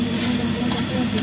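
Spices stir-fried in a pan with a steady, close sizzle, a low hum running beneath it throughout.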